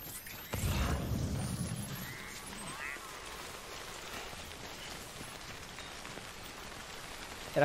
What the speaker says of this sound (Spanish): Ahora se pone a llover, manda huevo.